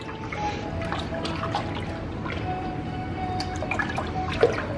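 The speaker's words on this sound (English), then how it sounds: "so we're just gonna stir this up" Milk being stirred in an Instant Pot to make yogurt, soft close liquid swishing and dripping with faint clinks of the spoon against the pot.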